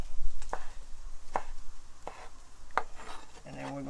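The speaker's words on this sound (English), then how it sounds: "We're just going to chop them up, just like so." A knife chops skinned vegetables on a cutting board in four sharp, evenly spaced thuds close by, followed by a brief clatter of kitchen utensils.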